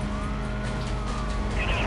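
A police car siren wails in the Need For Speed: Most Wanted racing game, a loud, continuous cry rising and falling over the rumble of car engines and road noise.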